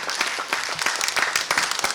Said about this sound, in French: Applaudissez un peu, s'il vous plaît.